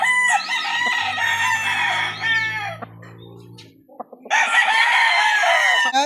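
Golden Boy F1 rooster kept as a backyard breeding cock, crowing loudly and close in two long calls with a quieter pause between, low background hum under the first and no talk.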